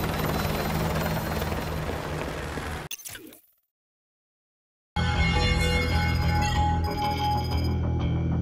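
A military helicopter in Call of Duty Modern Warfare 2 Remastered roars loudly and steadily, cuts to near silence for about two seconds, then resumes its heavy rotor drone with metallic clanks and whines layered on top.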